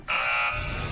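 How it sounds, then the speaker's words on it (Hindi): During a fight show, a buzzer gives one loud, sustained electronic buzz lasting about half a second, followed by a low rumble of background noise. "पहला बजर दबा दिया है अंजलि ने।"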